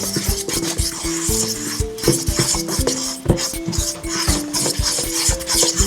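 Naan dough of flour, yeast and salt being stirred in a bowl, with a steady rhythm of scraping and squelching strokes and the utensil knocking against the bowl, close and fairly loud with no talk.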